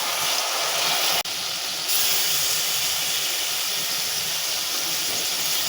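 Water poured into a hot pan of browned fried onions for khichuri sets off a loud, steady, steamy sizzle and hiss. It rises briefly after a short break and then holds strong to the end.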